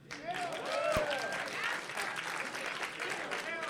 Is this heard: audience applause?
yes